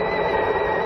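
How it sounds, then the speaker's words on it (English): A steady, shrill whistling kettle in a Lipton iced tea radio ad, one sustained high tone held evenly throughout at close range with no voices over it. "The whistling kettle."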